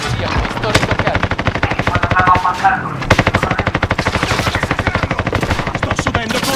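Heavy automatic gunfire in a Call of Duty: Modern Warfare battle royale match, loud rapid bursts of shots repeating through most of the stretch with a short lull midway, mixed with game sounds.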